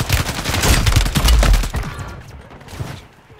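Heavy bursts of gunfire in a Rebirth Island video game match, a dense volley of shots close up that fades and thins toward the end, with no talk over it.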